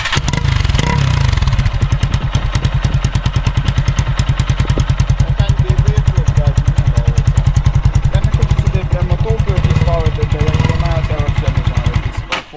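A small motorcycle, either an IZh Jupiter 4 or an SR220, sputters to life and settles into a loud, rapid, even putter at close range, with someone speaking briefly over it.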